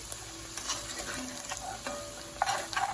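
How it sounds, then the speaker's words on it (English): Soft sizzling of bell pepper, celery and green onion frying in a pot over medium heat for jambalaya, with a few light scraping stirs and clinks over the steady crackle; no talking. "See how our sizzle went down for just a little bit? I've done some stirring."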